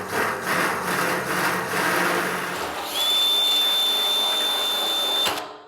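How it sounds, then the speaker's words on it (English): A 2-inch hole saw on a power drill cuts into a metal drum being built into a smoker, grinding steadily and close, rising into a high whine before cutting off abruptly. "So now I've got my 2-inch hole saw on."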